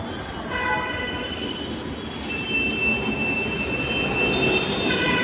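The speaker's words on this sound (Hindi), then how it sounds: "भाई मेट्रो तो आ गई, कीर्ति नगर की मेट्रो आई है" A Delhi metro train pulls into a station, a steady loud rumble of wheels and motors with tonal whines and a long high squeal rising over the noise, continuous throughout.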